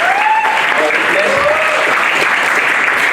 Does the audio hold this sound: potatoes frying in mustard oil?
no